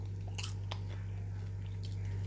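Popcorn is eaten straight from a hot pan, with quiet close chewing and a few soft crunches over a steady low hum.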